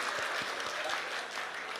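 An audience at an international poetry gathering claps in a dense, steady wash of applause, heard from within the crowd, with a few louder claps standing out.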